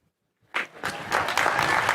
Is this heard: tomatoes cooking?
no